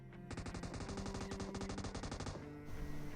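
Rapid bursts of machine gun fire in PUBG Mobile, one long rattling stream of shots then a brief pause before more firing, fairly quiet and without talk.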